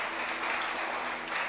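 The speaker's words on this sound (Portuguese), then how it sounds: "Se você pode, aplauda a presença do Rei dos Reis e do Senhor dos Senhores, em nome de Jesus." A church congregation applauds in a steady, dense wash of clapping that fills the whole short stretch at moderate loudness, with no voices standing out.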